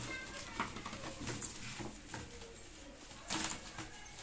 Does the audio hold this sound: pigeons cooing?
yes